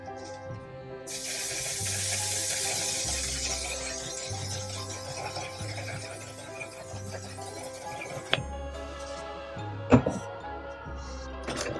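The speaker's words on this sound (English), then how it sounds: "So I'm just gonna spray my entire face with this right now." A long, steady hiss of makeup setting spray misting onto a face for several seconds, followed by a few light clicks and taps.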